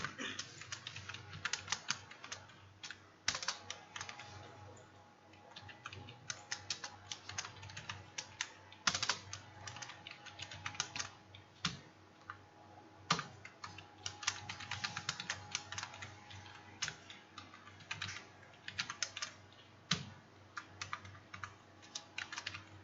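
Steady typing on a computer keyboard while writing JavaScript code in Notepad++, with irregular bursts of close, crisp key clicks and short pauses, no talking.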